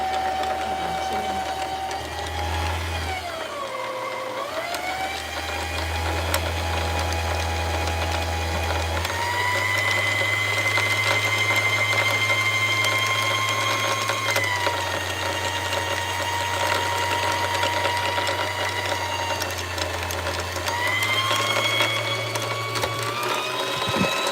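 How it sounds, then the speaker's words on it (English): A sewing machine hums continuously as it winds thread onto a bobbin, its motor pitch shifting slightly as the speed changes, with a brief dip near the start. "So what I'm doing right now is just threading the bobbin with the same color thread"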